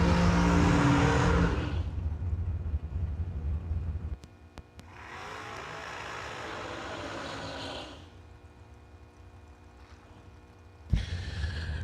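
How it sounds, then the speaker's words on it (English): Dragsters at a drag racing event, the New Year Nationals, roar past in separate bursts, each a loud, sustained engine blast with quieter gaps of distant rumble between them. "here come the long, skinny cars"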